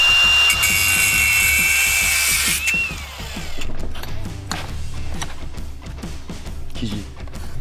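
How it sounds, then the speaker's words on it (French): Sawing in a garage where a Toyota Supra is being built, a steady run of rhythmic cutting strokes that is loud and close at first and then becomes choppier. "Dylan adore découper des trucs"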